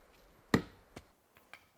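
A thrown axe strikes a wooden target outdoors at a wilderness survival camp: one sharp, loud thud, then two or three fainter knocks trailing off.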